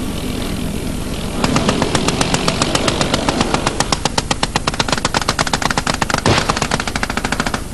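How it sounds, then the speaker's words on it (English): Coaxial machine gun on an M1A2 Abrams tank firing a long sustained burst, loud rapid rounds cracking in a steady rhythm over a low rumbling engine, starting after a brief idle. "The coaxial machine gun fires at an astonishing rate of 500 rounds a minute."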